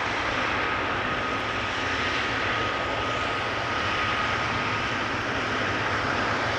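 An Emirates SkyCargo Boeing 777 freighter, ten years old, taxis at Amsterdam Schiphol Airport with a steady, moderately distant engine drone and no speech.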